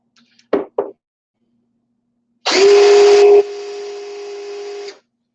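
Starline 30-30 Winchester brass case has its primer pocket uniformed with a tool: two brief knocks, then a loud, close whirring grind with a steady tone that drops slightly partway through before stopping, no talk.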